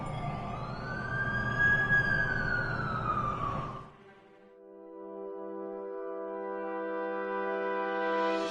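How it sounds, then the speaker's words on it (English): An ambulance siren arrives in The Amazing Spider-Man 2 video game, a loud wailing sweep over engine rumble that cuts off abruptly, followed by a steady sustained musical drone. "That's the ambulance I called."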